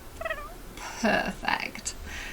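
A black cat in The Sims 4 game gives a brief purring trill and short meowing sounds, soft and close, spread over a couple of seconds with a faint chirp.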